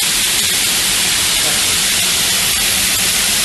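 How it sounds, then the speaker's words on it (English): Chicken pieces frying in a pan in an MKN FlexiChef commercial cooking unit, giving a loud, steady, dense sizzle and hiss that fills the short stretch without pause. "chicken goes into the pan, and you can hear it's still frying"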